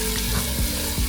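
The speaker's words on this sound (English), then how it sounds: "While we are waiting for our onions to finish caramelizing" Onions caramelizing in a pan for butter chicken, a brief dense sizzling crackle heard close up and fairly loud, steady throughout with a few soft bumps.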